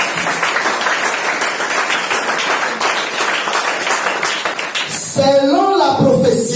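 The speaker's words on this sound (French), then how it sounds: "Acclamons pour le Seigneur." Applause in a church congregation acclaiming the Lord, a steady dense patter of clapping that runs for several seconds before giving way to voices and a bright tonal sound near the end.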